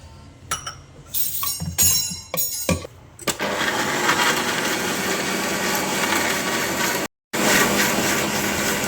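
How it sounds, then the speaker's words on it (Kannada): A few glassy clinks and knocks come first, then a kitchen mixer grinder whirs loudly and steadily as it grinds coriander leaves with water, cutting out for a moment before running on. "ಇದಕ್ಕೆ ಸ್ವಲ್ಪ ನೀರು ಹಾಕಿ ಗ್ರೈಂಡ್ ಮಾಡ್ಕೊಳ್ಳಿ."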